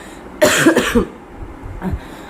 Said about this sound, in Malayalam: അപ്പം ചുമയുടെ കാര്യം പറഞ്ഞപ്പോൾ എന്നാൽ പിന്നെ ഞാനൊന്ന് വന്നേക്കാന്ന് പറഞ്ഞിട്ട് ചുമ വന്നതാണ്